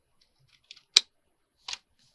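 Scissors cut paper while envelope pockets are made, giving a few separate crisp snips close by in otherwise quiet surroundings, with one sharper cut in the middle.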